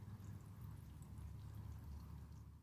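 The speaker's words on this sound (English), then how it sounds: "we're going to put some fuel into the tank and then purge the air from the system" Fuel pours steadily into the tank of a Husqvarna string trimmer, a low, continuous close liquid gurgle with no talk.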